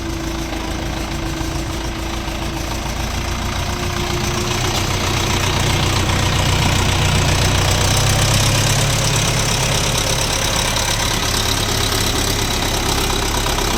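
An Orion RF404 tractor engine idles in a steady, close diesel chug with a knocking rhythm. It swells a little louder halfway through, and no voices are heard.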